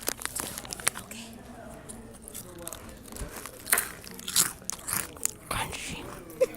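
Crunchy goldfish-shaped crackers bitten several times, giving sharp crisp crunches and crinkly bits in a quick uneven run, close up, with people talking and reacting around them.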